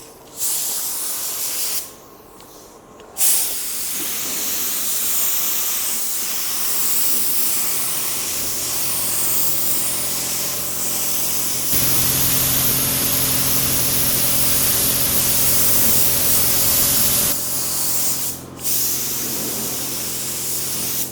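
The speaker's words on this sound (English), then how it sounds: "we're just going to focus on applying primer on the bottom of this fender" A spray gun lays urethane primer onto the bottom of a car fender, giving a loud steady hissing spray with short pauses between passes and a stronger, fuller blast in the middle.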